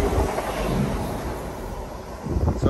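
A TransPennine Express train in double formation rumbles through Grindleford station, a steady close roar of wheels and engine with wind buffeting the microphone, swelling again at the end, no talk.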